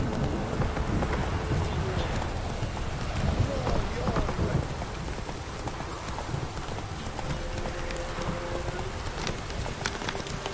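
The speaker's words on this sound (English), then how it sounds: "Whoa there, Roach" Horse hooves clip-clopping through rain in The Witcher 3 video game, a steady rhythmic trot under constant rainfall with distant thunder rumbles, fairly loud and continuous.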